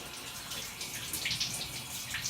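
A tap runs as ginger is washed under it, a faint steady stream of water splashing close by with no talk.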